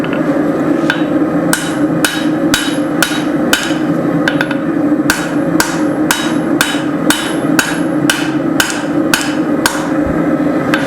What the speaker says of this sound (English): So I guess I'm going to start to taper this thing a little bit. Use my cross peen.